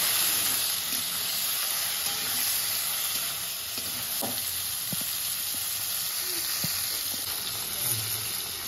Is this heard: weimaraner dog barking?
no